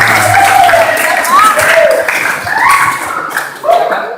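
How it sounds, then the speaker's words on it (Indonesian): A classroom group claps in brief applause at a vocational school session, scattered hand claps blending with background voices and chatter over about four seconds. "tepuk tangan dulu."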